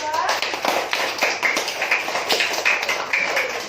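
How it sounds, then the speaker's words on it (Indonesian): A classroom of students claps for a group representative, a dense, quick patter of hand claps with raised voices mixed in, moderately close and steady throughout. "Tepuk tangan untuk perwakilan dari kelompok 2."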